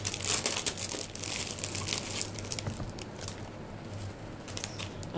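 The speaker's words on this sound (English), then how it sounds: "I apologize for the rattling of the cellophane bag" A cellophane bag of jelly beans is crinkled and rattled open up close, a continuous busy crackling and rustling that runs throughout with no talking.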